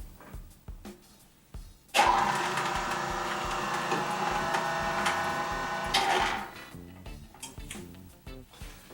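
An Omega NC800HDS juicer extruding pasta starts with a sudden steady mechanical whir and grind that runs for about four seconds before cutting off, with light clicks and handling noises around it.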